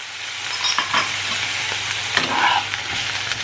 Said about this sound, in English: then just fry the courgette and garlic together for about 5 minutes